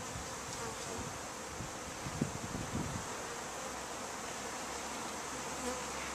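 Dense, steady droning hum of thousands of honey bees from a newly arrived package, continuous and close, with a few brief rustling knocks partway through.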